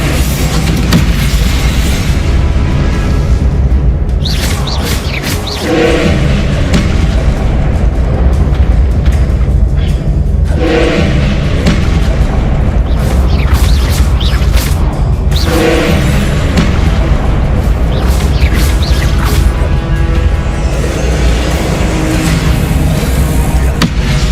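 Bombarda and Confringo spells explode in the video game Hogwarts Legacy: loud, repeated booming blasts at uneven intervals over a dense, continuous wash of game sound.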